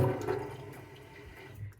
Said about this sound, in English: you fill it up to just underneath this safety marker